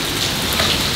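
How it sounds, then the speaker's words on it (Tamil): Steady, close rain pours down at a beach resort on a stormy day, a dense even hiss of drops with no voices. "இங்க பாத்தீங்களா, மழை பெய்கிறது."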